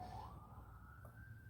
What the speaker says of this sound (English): Ambulance is going by.